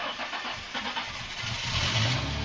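A Ford Mustang's engine runs nearby, a steady mid-pitched rumble that swells slightly louder toward the end of the short stretch.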